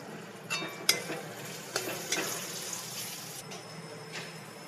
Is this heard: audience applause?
no